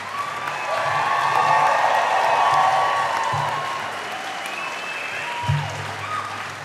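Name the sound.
graduates applauding family, friends, faculty and staff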